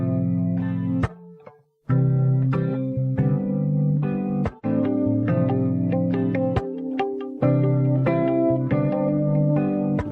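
Clean electric guitar loops from a royalty-free sample pack: picked arpeggiated chords with short gaps between phrases, played clearly and alone with no talking.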